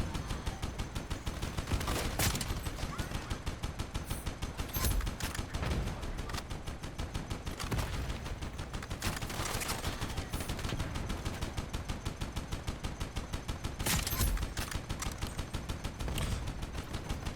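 Hydra weapon gunfire in the online shooter Iron Sight, a dense, continuous stream of rapid shots with repeated louder bursts, loud and close, with no voice over it.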